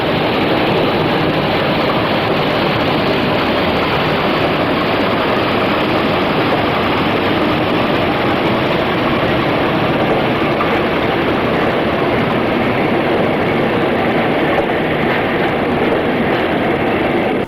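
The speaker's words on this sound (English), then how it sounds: "Achilles pulls away from Fennerton on the long single track section from Pinhoe on the outskirts of Exeter to Yeovil" British Rail Class 50 diesel locomotive Achilles pulls away on a long single-track line near Exeter, a loud sustained engine roar and rolling rail noise that stays steady throughout, with no voices.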